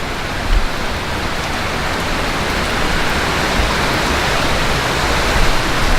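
Creek water rushes steadily below a waterfall at Dutchman Lake in Shawnee National Forest, fed by the larger falls above, a dense, continuous broadband roar heard from a high vantage point with no break.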